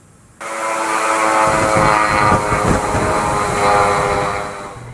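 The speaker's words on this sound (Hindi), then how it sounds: "ये आवाज़ कीव पर मंडराते खतरे की है। यहाँ अमूमन हर रात रूस के हमलावर ड्रोन मंडराते हैं" Russian attack drones fly over Kyiv at night, a loud, steady droning hum with a strong whining tone that starts abruptly and holds throughout, slightly fading near the end.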